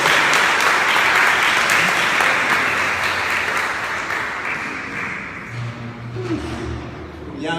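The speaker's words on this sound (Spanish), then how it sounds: "Démosle un fuerte aplauso" Loud, sustained applause from a congregation at a Baptist congress fills the hall for several seconds, then thins and fades toward the end while a few low voices come through.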